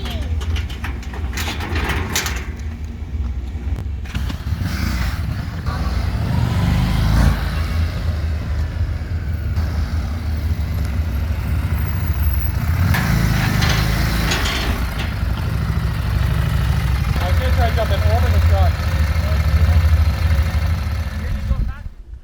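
A 2017 Harley Davidson Street Rod 750 motorcycle engine rumbles continuously in a deep, steady tone, with swells in loudness suggesting revving or riding, and people talking over it.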